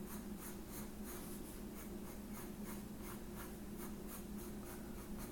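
Pencil scratching steadily across paper as a rough circle is sketched for sphere-shading practice, a continuous dry rubbing with faint periodic strokes over a low background hum, close and quiet, no talking.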